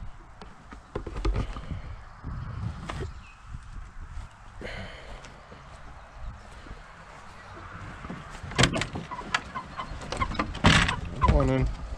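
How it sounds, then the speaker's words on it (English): Chickens cluck in bursts around a homestead yard during morning feeding, mixed with footsteps and nearby talking, the clucks growing louder and more frequent toward the end. "On my way to feed the chickens."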